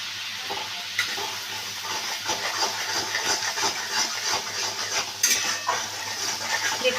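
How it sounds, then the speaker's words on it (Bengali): Spice paste with mustard and poppy seed sizzles steadily in a pan for rupchanda (pomfret) fish, with a spatula scraping and stirring throughout and occasional louder clinks against the metal. "বন্ধুরা মশলাটা আমি এইভাবে ভালো করে কষিয়ে নিচ্ছি"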